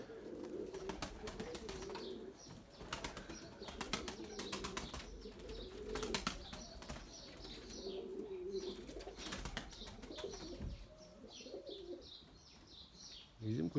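Tumbler pigeons flying overhead outdoors, with soft cooing and chirping bird calls running through, under intermittent flapping and distant background noise.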